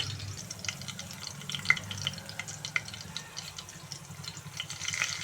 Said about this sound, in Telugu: ఇప్పుడు ఈ అల్లం కొంచెం మగ్గేట వరకు వేయించుకోవాలి